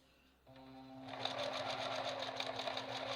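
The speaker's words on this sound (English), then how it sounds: "I'm going to sew it down close to the edge of the tape" A sewing machine starts up and stitches tape down close to its edge, the motor ramping quickly into a steady, fast, rhythmic whir heard close and alone.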